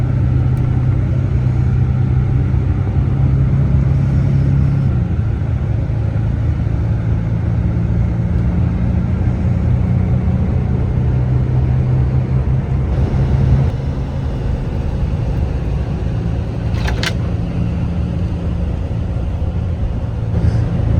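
At the rear of an MTrans Volvo B11R double-decker bus, the engine gives a steady, low, droning hum with a smooth, even rumble that barely changes over time, heard from inside the cabin.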